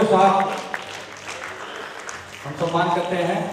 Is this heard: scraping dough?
no